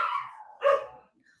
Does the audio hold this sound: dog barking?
yes